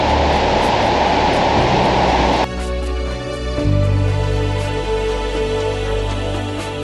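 Broad, rushing water noise from the Bad Gastein waterfall in Austria fills the first half, loud and steady, then cuts to a quieter, humming background.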